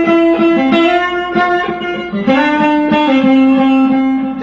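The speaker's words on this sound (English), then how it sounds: "2 guitar parts come in that are in harmony with each other" Two electric guitar parts play in harmony, their parallel melodic lines moving together with a slightly driven tone in a steady rhythm, close and loud with no voices.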